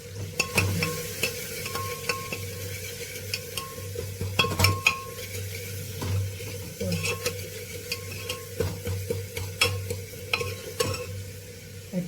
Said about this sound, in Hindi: जीरे का तड़के का, ओनली जीरे का तड़के का।